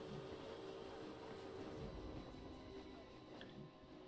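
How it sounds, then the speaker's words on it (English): A train rumbles past a railway crossing in the Planet Coaster video game, a quiet, steady rolling rattle with faint clicks that holds the whole time and eases slightly near the end. "So we'll go down to the train where the crossing is."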